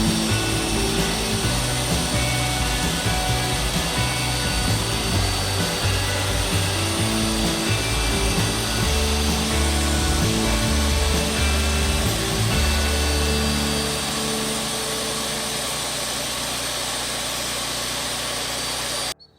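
Power saw cutting wood for a picture frame, a loud, continuous close-up grinding roar with rough rubbing texture that eases off and runs down over the last few seconds.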